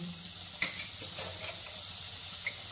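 Spices go into lightly fried potatoes in a pan, giving a faint, steady sizzle and hiss with a couple of soft utensil clinks and no talking.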